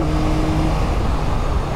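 A Yamaha Tracer 9 GT with its CP3 triple-cylinder 900cc engine runs with a steady, loud, low mechanical drone close by, without speech.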